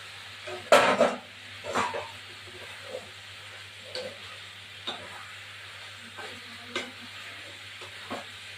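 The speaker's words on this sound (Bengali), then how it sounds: "এবার এগুলো দিয়ে দেবো এই ইঁচড়গুলো ভাজা আলু ভাজা সব দিয়ে দেবো" Raw jackfruit pieces and fried potatoes tipped into a hot pan for a jackfruit curry, with a loud clattering splash at first, then light scraping, stirring knocks and a faint sizzle underneath.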